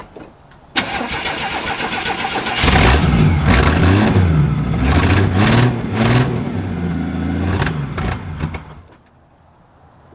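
A classic Chevrolet C10 pickup with a carbureted engine cranks and fires from a cold start, then runs loud and close with uneven revs and surges before dropping off near the end.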